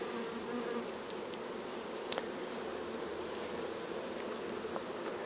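Dense, continuous buzzing of many bees close by inside a hive, steady drone with a couple of faint clicks.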